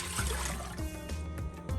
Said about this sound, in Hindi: इस पर मैं ऐड कर रही हूँ पानी।